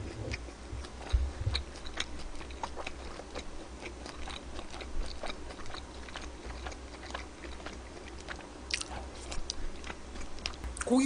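Someone eats pork belly bean sprout rice, with soft chewing and small crisp bites ticking steadily close to the mic over a quiet room.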